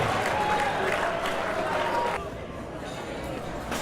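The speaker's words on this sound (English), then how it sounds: "How about a round of applause for the father of the bride?" Wedding reception guests give a round of applause for the father of the bride, a full burst of clapping and crowd chatter that drops to a softer level partway through as someone talks over it.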